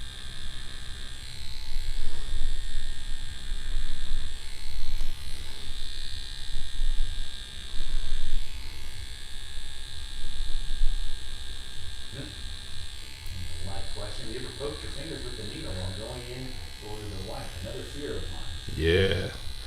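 A Scorpion tattoo machine runs with a steady electric buzz and hum throughout, with people talking over it during a live tattoo broadcast.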